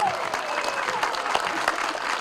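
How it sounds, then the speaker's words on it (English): An audience at an elementary school ribbon-cutting ceremony for Taylor Elementary claps steadily for the students, a dense, continuous applause with a few louder claps and faint background voices. "A big round of applause for our Taylor Tiger students. Let's hear it for them."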